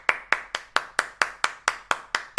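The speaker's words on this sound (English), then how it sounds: "Round of applause. Welcome him to the building." Applause for a host arriving at a live show: about ten crisp, evenly spaced hand claps in a steady rhythm, close and fairly loud, with no voices.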